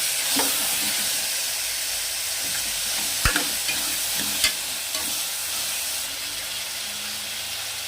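Carrots and vegetables sizzle steadily in hot tempering oil while being stirred, with a couple of sharp clinks from a utensil against the pan.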